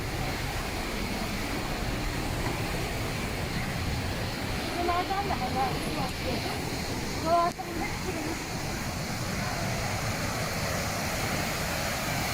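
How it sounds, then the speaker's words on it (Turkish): A steady rush of a small waterfall fills the scene, constant and fairly loud, with a brief chirp of voices or birds partway through, in Antalya, Turkey. "Şurada bir tane daha ufak şelale var ya"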